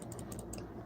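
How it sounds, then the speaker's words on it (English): Quiet typing on a computer keyboard, a quick run of light clicks over a low background hum, fairly faint throughout. "I'm typing something."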